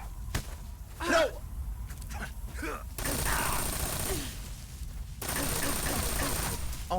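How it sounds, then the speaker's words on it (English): Gunfire from the video game Metal Gear Solid 3, a dense fusillade of bursts that fills much of the clip, with sharp broadband volleys and a player's pained gasps and groans mixed in. "Oh my god, stop shooting me."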